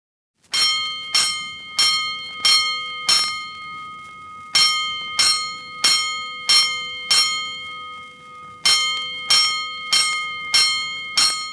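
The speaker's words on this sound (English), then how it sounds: "Five bells." Fire alarm bells strike a five-bell signal in a series of sharp, ringing clangs, grouped with short pauses between groups, loud and resonant with long decaying tones.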